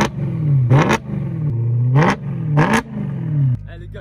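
A BMW M3 E92 with straight pipes starts up and revs three times in quick succession, each sharp rasping rise falling back to a low burbling idle, loud and close.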